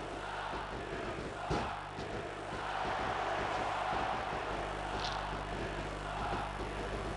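A wrestling arena crowd in WWE SmackDown! vs RAW 2006 roars in a steady, dense wash of cheering that swells slightly midway, loud and continuous with no one speaking over it.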